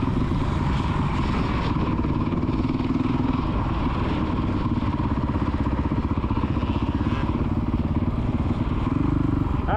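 Motocross dirt bike engines drone continuously at close range on the Astley MX main track, a rough buzzing motor with slight surges and clatter as kids ride.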